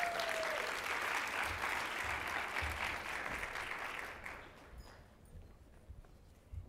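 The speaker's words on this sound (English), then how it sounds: "Dr. Anilda Badia, please give her a big round of applause." Audience applause in a general session hall, a dense wash of clapping that holds steady for several seconds, then thins and fades toward the end.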